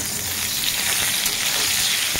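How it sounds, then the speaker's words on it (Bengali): Brinjal pieces seasoned with salt and turmeric fry in mustard oil over a low gas flame, producing a loud, constant crackling sizzle throughout. "আর এই বেগুনটা ভাজার সময় গ্যাসের ফ্লেমটাকে অবশ্যই লোতে রাখবো।"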